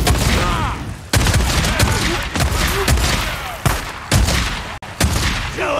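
Gunfire from the Days Gone video game comes in loud, repeated bursts about a second apart, each sharp crack followed by a brief ringing tail.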